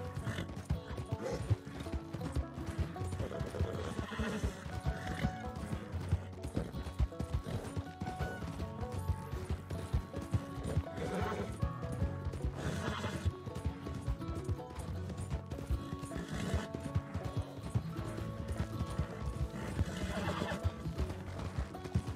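Hooves clip-clopping steadily alongside braying calls from a donkey in the Western game Red Dead Redemption 2, heard within a busy, dense game soundscape that runs the whole time.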